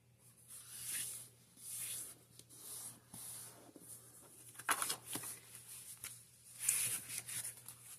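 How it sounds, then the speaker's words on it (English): Paper being folded for a file folder folio: soft repeated rubbing and sliding strokes, with a few sharper creasing crinkles, close and quiet with no voice. "I'm going to fold this over so that it meets just about to where that's at."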